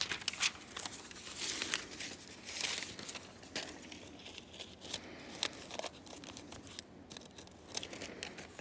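Tissue paper crinkles and rustles close by as it is handled inside a basket woven from magazine paper, a quiet run of crisp crackling bursts with no talk.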